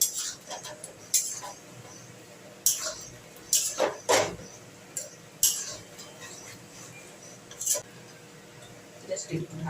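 Cabbage and egg kofta curry being stirred in a pan, with sharp intermittent scrapes and metallic clinks of a spoon against the pan spread across the stretch, close and uneven.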